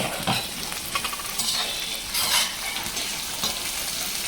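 Okra cooks in a pan for a masala bhindi dish, with a steady close sizzle and bursts of stirring and scraping from a utensil, moderately loud, with no one talking.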